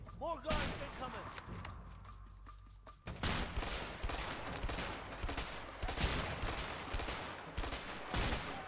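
Gunfire in the video game A Way Out, dense bursts of shots crackling steadily through the scene, fairly loud, with players talking over the action.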